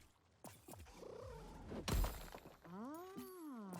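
Cute creature in Grow: Song of the Evertree making soft purring and chirping noises, a short burst of gentle vocal sounds followed by a warbling trill, alone without talk.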